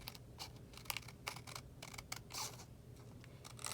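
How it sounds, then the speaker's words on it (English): Scissors snip through excess cardstock while trimming a handmade gift card and money holder, a quick series of close, crisp cuts and rustles with no talking. "we'll go ahead and use our scissors to trim away the excess"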